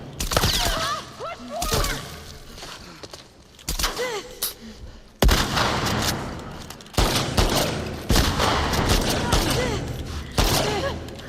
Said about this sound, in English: Did I not shoot her like 4 times in a row?